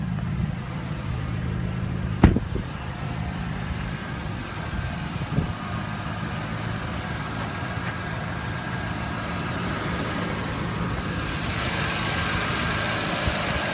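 The 4.8-liter twin-turbo V8 of a 2016 Porsche Cayenne Turbo, aluminum block and heads, idles with the hood up, a steady low rumble with a faint whine and one sharp click near the start.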